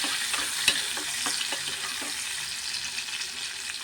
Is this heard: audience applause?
no